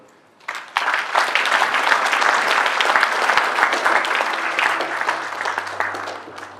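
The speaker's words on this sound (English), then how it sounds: "Please clap for them." Conference audience applauding departing dignitaries, a loud, sustained burst of clapping that starts suddenly and continues evenly for several seconds.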